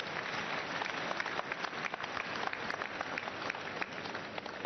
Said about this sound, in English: Let's clap for wonderful Jesus Christ.